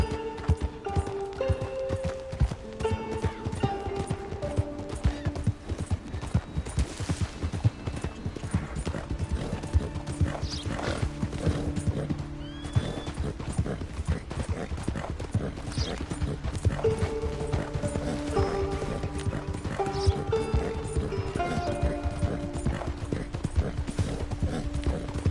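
Horse galloping in Red Dead Redemption 2, continuous rhythmic hoofbeats at a steady loud pace with occasional whinnies and tack jingle over game music.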